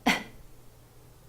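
A voice imitates an elderly man clearing his throat with a cough, one short, loud, rough burst at the start followed by quiet.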